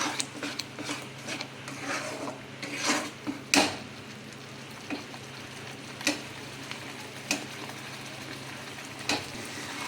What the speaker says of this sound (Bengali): এবার ডিম আর আলুটাকে মশলার সাথে একটু কষিয়ে নেব